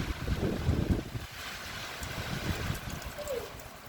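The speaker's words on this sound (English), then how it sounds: "Yo, the wind is ridiculous." Strong wind blowing outside a car, a steady broadband roar with heavier low rumbling gusts at the start, then easing slightly, with no voices.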